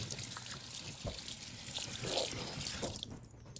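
Tap water runs steadily into a sink during handwashing in a home kitchen before cooking, a continuous close trickle and splash with small drips, no talking.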